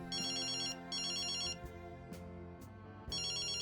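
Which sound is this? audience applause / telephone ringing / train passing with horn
telephone ringing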